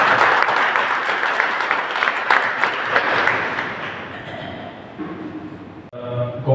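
Loud applause from colleagues at a retirement farewell party at Swaraj R&D, dense clapping that gradually fades over several seconds and gives way to murmuring and talk near the end.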